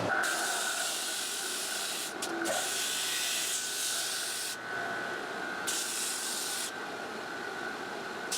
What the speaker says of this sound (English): I'm really going to taper this with the foot switch and the stationary disc sand